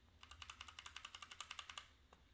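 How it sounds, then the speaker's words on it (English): Arrow keys on a computer keyboard are tapped about fifteen times in a quick, even run of crisp clicks, close and alone, with one last stray click after a short pause. "if I use the arrow keys on my keyboard"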